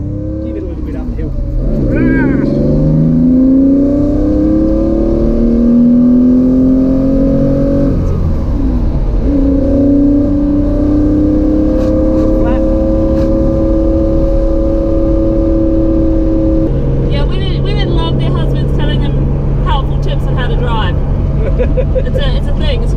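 A Porsche 911 2.8 RSR engine pulls uphill, loud and close. Its rising roar climbs through the revs, falls back at gear changes and then builds again.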